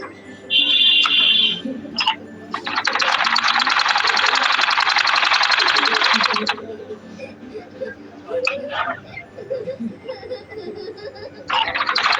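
A sewing machine runs in one sustained, loud buzzing burst while stitching a pillow cover, with quieter mechanical clicks and short fragments of voices and laughter around it.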